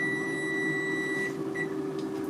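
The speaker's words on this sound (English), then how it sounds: "The alarm is about to go off." A rice cooker alarm signals finished rice with a long, steady electronic tone, then a brief second beep, over a constant low appliance hum in a kitchen.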